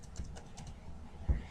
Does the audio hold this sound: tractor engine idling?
no